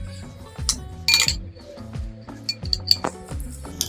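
Utensil scraping and clinking against a bowl while chicken sandwich stuffing with ketchup and mayonnaise is mixed, a series of irregular close metallic taps and scrapes, fairly quiet, with no talk.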